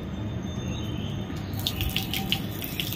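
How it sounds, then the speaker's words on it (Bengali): Water splashing and running as a bedsheet is rinsed by hand outdoors on a sunny rooftop, a steady wash of flow with brief splashes in the second half. "দেখো আমার চাদর ধোয়ার টেকনিক কি বলতো ভাই, নামে খালি ধুয়ে দিচ্ছি"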